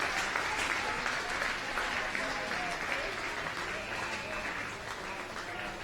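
A crowd applauds steadily at a 2015 under-19 Australian football grand final in Sydney, Western Suburbs v Holroyd, a dense wash of clapping that eases slightly toward the end, with a commentator's voice faintly underneath.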